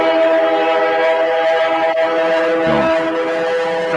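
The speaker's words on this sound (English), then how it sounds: "I want you to see this train." A passing train, the Brooklyn Express Pennsylvania charter, rumbles past continuously and loudly with steady tonal rail noise throughout, with no voices.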